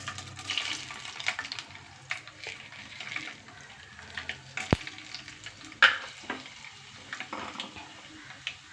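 Mustard seeds, chana dal and urad dal frying in hot oil in a kadai for rava kichadi, a steady soft sizzle with scattered sharp pops and crackles throughout, close and fairly quiet, no talking.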